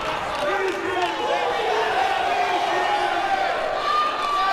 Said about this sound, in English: You hear the crowd yelling